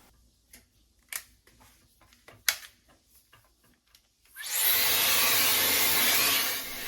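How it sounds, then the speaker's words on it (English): Shark FlexStyle 1300-watt hair dryer switching on after a few soft handling clicks and rustles, then a loud, steady broadband rushing airflow that holds evenly for the last couple of seconds. "We'll start with the hair drying."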